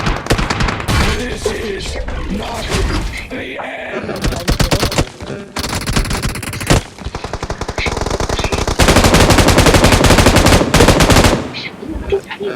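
Gunfire in the mobile battle-royale game PUBG Mobile: loud, dense bursts of rapid automatic fire in long continuous stretches, separated by brief pauses, with a few voices faintly audible in places.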